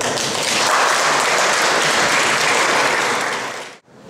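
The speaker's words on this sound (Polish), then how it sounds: "Brawa." Crowd applause at a school year-end ceremony in a Polish secondary school, loud and dense, sustained for several seconds before cutting off abruptly near the end.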